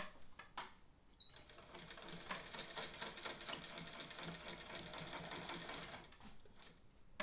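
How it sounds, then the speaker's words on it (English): A 1957 Kenmore C877.50 sewing machine stitches through fabric at a steady, rapid mechanical clatter that runs continuously for several seconds after a brief pause, loud and close with no talking. "And I sewed more slowly so you could see it will sew more quickly"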